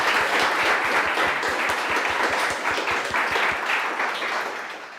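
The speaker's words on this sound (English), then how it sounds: "Can we have a last round of applause for Adrian, please?" Audience applause at a developer meetup, with many people clapping in a loud, sustained, even patter that tapers off near the end.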